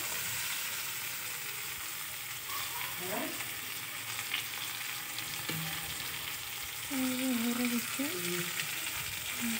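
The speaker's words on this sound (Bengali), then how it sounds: "দেখো কতটা তেল ভাসি উঠিয়েছে, প্রায় ভাজা হয়েই গেল।" Oil sizzles steadily as chicken fries in a pan, a constant crackling hiss with occasional stirring scrapes and faint tonal squeaks.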